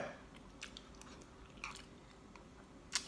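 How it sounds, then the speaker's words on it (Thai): Someone eats rice with faint close-up chewing: a few soft, irregular bites and mouth sounds over quiet room tone, with one sharper crunch near the end and no talk. "กินข้าวรอ มีข้าวกินครับไม่เป็นไร"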